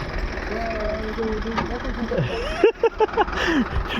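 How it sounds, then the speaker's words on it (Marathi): A tractor engine hums and chugs steadily nearby during late-night farm work while people talk over it, ending in a few abrupt knocking bursts. "सोन्या हे सोन्या ट्रॅक्टर असं उचला बरं खाली"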